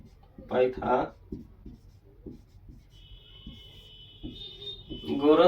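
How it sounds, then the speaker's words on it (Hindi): Chalk or marker scratching on a classroom board as the Pythagorean theorem is written for a class 10 maths lesson, with short strokes under a teacher's speech and a faint steady tone. "यहाँ पे लिखेंगे पाइथागोरस"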